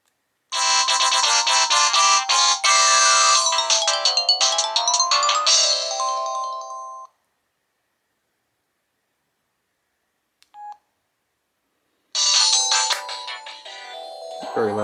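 A Samsung SGH-S307 mobile phone plays a bright, busy melodic ringtone through its loudspeaker for several seconds, then goes silent except for one brief tone before the ringtone resumes loudly.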